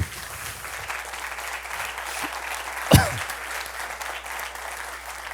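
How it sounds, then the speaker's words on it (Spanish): Steady audience applause runs throughout at moderate distance, with one sharp louder clap or knock near the middle. "Hay que darle un aplauso a Landy Boy."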